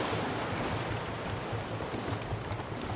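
Ocean waves in the survival video game Raft, a loud, continuous wash of surf and wind-like rushing water that never lets up, with no speech over it.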